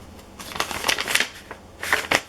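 Small paper envelopes from a flea market haul are handled and shuffled, giving a quick series of light, dry crinkles and rustles close to the microphone, with no voice.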